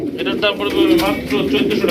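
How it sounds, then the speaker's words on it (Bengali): A pair of Giachuli pigeons kept for sale with two eggs give close, low throaty cooing, rising and falling over a couple of seconds while someone speaks over them. "এখানে রয়েছে একজোড়া গিয়াচুলি কবুতর দেখতেই পাচ্ছেন"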